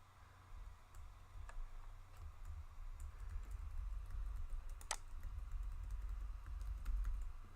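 Faint, quick keystrokes tap on a computer keyboard in a quiet room over a low steady hum, with one sharper click standing out midway.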